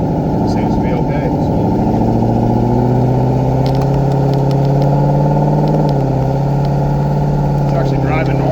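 A car running a Holley Terminator X engine controller drives along with a loud, steady engine and exhaust drone heard from inside. The deep tone shifts slightly midway, and it stays constant throughout.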